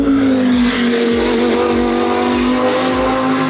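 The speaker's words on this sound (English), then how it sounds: "Sorry, I keep pausing because the cars are so damn loud" Race cars roar past on a track during an endurance race, a loud continuous engine drone with rising and falling pitch and repeated pass-bys, alone without talk.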